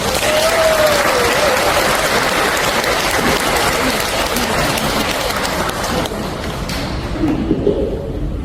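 A large church congregation claps steadily and loudly for several seconds, a dense continuous wash of applause that thins slightly toward the end.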